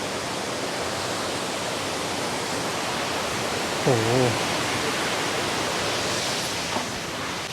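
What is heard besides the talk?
Phlio waterfall in Chanthaburi, Thailand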